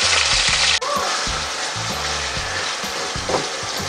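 Marinated beef frying in used cooking oil, a loud steady sizzle and crackle filling the whole clip with soft stirring clatter underneath.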